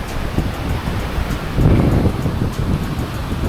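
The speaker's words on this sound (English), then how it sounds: "That is a beautiful beachfront" Surf rolls in steadily at a beachfront in Sihanoukville, with wind buffeting the microphone and a slightly louder wash building partway through; there are no voices.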